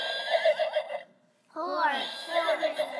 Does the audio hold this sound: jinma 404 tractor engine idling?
no